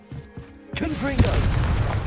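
A Confringo blasting spell bursts in a wizard-themed video game, a sudden loud boom with a crackling, rumbling tail that follows a quiet stretch of faint speech and lingers to the end.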